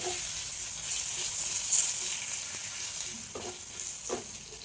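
Chutney tempering with asafoetida powder stirred in a pan, a soft continuous sizzle with a few light scraping knocks near the end, close and moderate in level.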